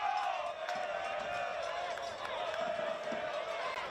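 Crowd at an Australian Championship football match between Canberra Croatia and Preston Lions, a steady distant murmur of spectators with brief swells, under a commentator's voice.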